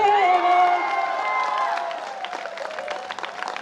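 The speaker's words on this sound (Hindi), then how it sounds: "अच्छा, आपने ताली बजा दी" An audience claps and cheers at a live stage show: a broad wash of applause, with a sustained tonal sound fading out early, then scattered claps that thin toward the end.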